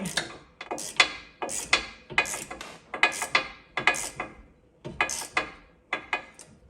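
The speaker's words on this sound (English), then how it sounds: "now we're gonna try and break this one free" A wrench works a rusty threaded fastener on the suspension of a 2009-2015 Honda Pilot, giving a series of sharp ratcheting clicks in short, uneven bursts, close and fairly loud, with no talking.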